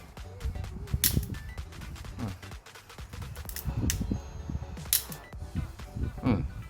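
Olympus OM1 film camera shutter firing during a speed test, several sharp mechanical clicks spaced irregularly, close and fairly quiet, with low talk and handling noise between them.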